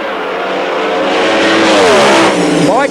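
Drag racing cars at an ANDRA Top Alcohol championship meet launch side by side down the strip, a loud sustained engine roar with rising revving pitch that swells, then tails off near the end.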